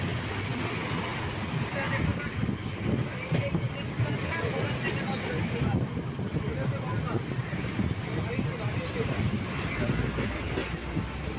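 A train crossing the Farakka Bridge in India, heard from aboard as a loud, continuous rumble of wheels and carriages that runs steadily throughout, with indistinct voices mixed in.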